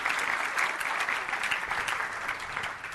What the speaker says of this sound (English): Big round of applause for Mrs. Dripayanti